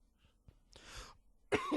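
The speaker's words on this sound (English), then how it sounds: "Had a cough." Two rough, throaty coughs ring out close by, one in the middle and a louder one at the end, with quiet pauses around them.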